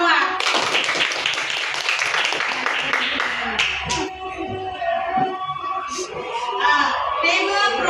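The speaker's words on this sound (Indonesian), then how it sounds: "Tepuk tangan semua." An audience claps for a few seconds, a dense burst of hand claps that thins out and fades, followed by scattered voices and a few faint cheers.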